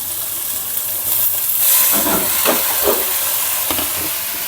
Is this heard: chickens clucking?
no